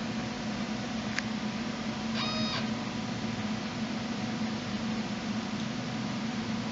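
A Conceptronic Freedom 3000 BGA rework station moves a component into position over its prism, giving a steady close mechanical fan-like whir. A brief motor whine rises in short stepped tones partway through.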